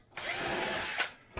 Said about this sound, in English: always a good idea just to run the drill through